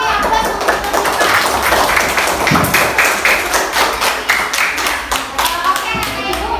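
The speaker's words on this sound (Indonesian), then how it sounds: "silakan beri aplaus untuk Nur Sipa" A class of schoolchildren applauds a student after her presentation, steady hand clapping from many small hands for several seconds, with faint children's voices mixed in.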